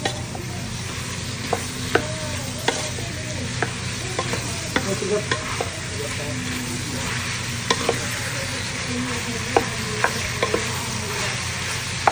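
Beef with soy sauce and oyster sauce stir-fries in a pan for caldereta, with a steady close sizzle throughout and irregular scraping clicks of a spatula against the pan.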